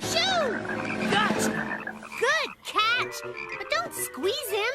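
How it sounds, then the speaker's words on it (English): Cartoon frog croaking in a few short, bouncy calls that rise and fall, heard up close alongside lively children's voices and shouting throughout. "Listen to that frog croak."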